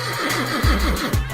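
A horse whinnies in a loud, wavering neigh with quick rising and falling pitch. It sounds close, over a steady low rumble, with no speech.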